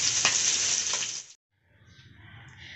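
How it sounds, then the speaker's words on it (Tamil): Loud, bright sizzling of fish frying in hot oil cuts off abruptly, then a quieter crackling sizzle resumes. "அப்படியே தூக்கி எண்ணெயில போட்டு பொரிச்சு"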